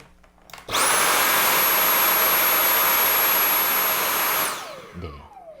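A Dyson V8 cordless vacuum cleaner runs in max mode, spinning up to a loud, steady high-pitched whine with a broad airy roar for about four seconds before winding down as the motor cuts out.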